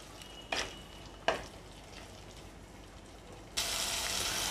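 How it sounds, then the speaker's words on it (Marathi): Masala frying in oil in a pan, a soft steady sizzle with two brief scraping stirs, then a louder, brighter hiss near the end, with no voices. "आता आपल्याला ह्या मसाल्याला चांगलं तेल सुटेपर्यंत परतून घ्यायचं आहे।"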